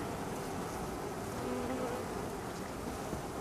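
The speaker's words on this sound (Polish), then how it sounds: "Piękne, młode pszczółki." A dense, continuous buzzing of many young honeybees at the hive hums steadily close by, with no voices.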